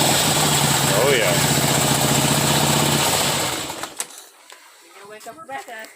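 Motorcycle fitted with Rinehart exhaust, idling with a steady loud rumble that fades out after about three seconds, followed by quieter scattered handling noises.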